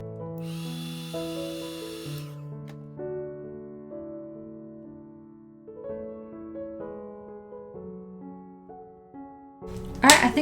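A heat gun warms a vinyl skin on a Nintendo Switch to wrap it around a beveled edge. Its steady blowing hiss lasts about two seconds near the start beneath soft background music, and a brief noisy burst follows at the end.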